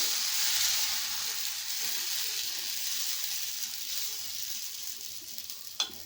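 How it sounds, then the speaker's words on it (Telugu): Wheat flour dosa batter sizzling on a hot oiled pan, a steady, close hiss and crackle that holds throughout, with a brief sharp click near the end. "ఇప్పుడు ఇంకోటి అయితే దోశ వేసేసుకుందాం"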